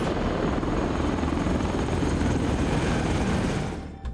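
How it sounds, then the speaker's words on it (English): A film drone sound effect made from a hovercraft rotor recording, a dense steady whirring roar with rotor-like throb, loud and continuous before it trails off sharply at the end, with no voices. "I'm incorporating that sound into the drones that we have in our movie."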